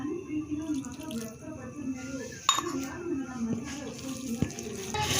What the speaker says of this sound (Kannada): ಒಂದು ಕಾಲು ಲೋಟ ಅಷ್ಟು ನೀರು ಹಾಕ್ಕೊಂಡು ಇನ್ನೊಂದು ಸರಿ ಚೆನ್ನಾಗಿ ಕಲಿಸ್ಕೋಬೇಕು